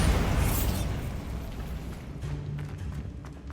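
A Bombarda spell in Hogwarts Legacy erupts in a loud, close blast that rumbles and slowly fades, leaving a low debris-like tail.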